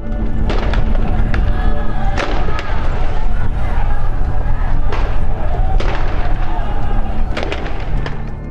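Loud, repeated gunshot cracks burst out during a Brazilian prison riot, irregular sharp reports over a dense, noisy wash of crowd and background clamor.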